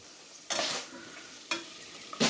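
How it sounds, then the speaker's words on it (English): Potatoes are stirred into melted butter in a pan, with three distinct scraping strokes spaced about a second apart over a soft, steady sizzle. "Then add the potatoes and stir them to get them coated all over with the butter."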